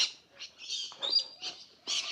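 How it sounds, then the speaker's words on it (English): Several birds chirp in short, bright bursts, with calls overlapping at a moderate distance and no talking, on a street corner in Innisfail, Australia. "lot of birds."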